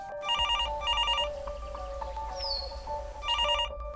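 A landline telephone rings in repeated electronic trilling bursts, three rings with short pauses between them, fairly clear against a quiet room.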